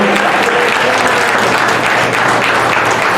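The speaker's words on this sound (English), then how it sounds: "Clap for them now." A church congregation claps together during a Sunday service, a dense, loud, steady wash of many hands that carries evenly all the way through.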